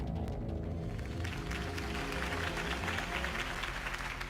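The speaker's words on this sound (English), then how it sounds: "could have heard that applause" Steady crowd applause in the video game Telltale Batman rolls on throughout, a dense wash of clapping at moderate volume with no voices standing out.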